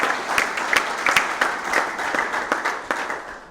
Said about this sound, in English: if I can get a round of applause for Greg Wilson for doing all this for us